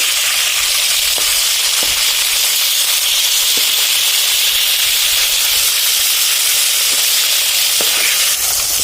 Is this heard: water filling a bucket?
no